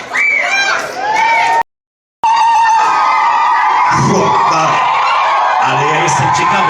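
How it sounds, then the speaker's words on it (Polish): Children at a school event in Poland cheer and shout loudly for the boys' team, a dense crowd of high voices that cuts out completely for about half a second before resuming. "Pamiętajcie, wielkie brawa, wielkie brawa, kochani"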